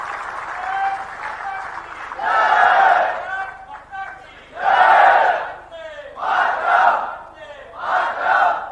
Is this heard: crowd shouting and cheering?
yes